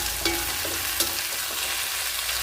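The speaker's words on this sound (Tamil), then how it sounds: "இப்போ நம்ம கத்திரிக்காய் எப்படி ஃப்ரை ஆயிருக்குன்னு பார்க்கலாம்." Eggplant frying in ghee over a low flame, with a soft, steady sizzle and a couple of light stirring taps, close and fairly quiet.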